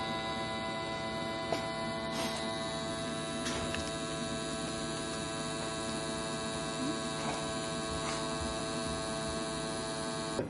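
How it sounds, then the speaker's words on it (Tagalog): Vacuum sealer machine sealing a bag, a steady electric hum and whine running throughout, close and constant, with a few faint clicks and ticks scattered over it and no talking. "Hit vacuum seal."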